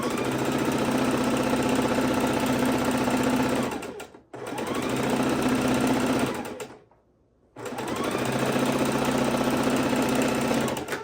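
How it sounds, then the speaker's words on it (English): A sewing machine stitches large quilt pieces together in three sustained runs of fast, even mechanical whirring, separated by short pauses, close and loud with no talking. "we're going to go ahead and sew these 2 very large pieces together"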